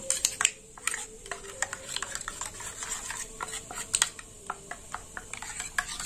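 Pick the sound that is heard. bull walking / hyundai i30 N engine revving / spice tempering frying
spice tempering frying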